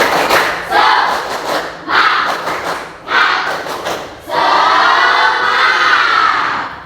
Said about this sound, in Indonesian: kita tepuk semangat terlebih dahulu bersama